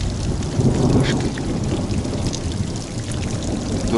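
Heavy rain pours steadily with thunder rumbling low during a night thunderstorm on a riverside fishing trip, a dense continuous roar close by with no pauses.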